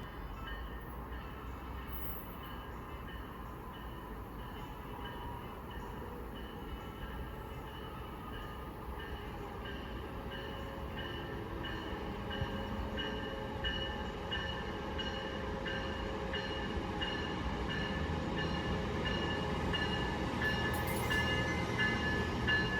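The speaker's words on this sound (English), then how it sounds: "Here's a MARC train arriving for a station stop." A MARC commuter train rumbles into the station at Odenton, Maryland, its low drone slowly building and growing louder, with faint brief squeals high above.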